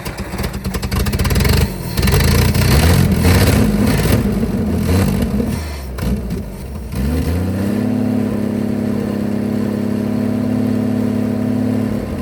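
A Ford Edsel engine runs loud and rough, with uneven revving bursts early on, then settles into a steady, throbbing idle for the rest of the clip, close and continuous with no talk.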